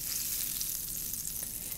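Butter sizzling steadily in a hot skillet just out of the oven, a dense continuous frying hiss throughout with no talking.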